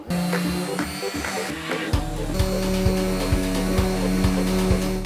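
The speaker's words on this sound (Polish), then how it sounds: "przeszlifujemy ją szlifierką oscylacyjną" An oscillating sander on a board edge gives a steady drone with a rapid buzzing vibration, loud and close, after a brief burst of clattering mechanical noise at the start.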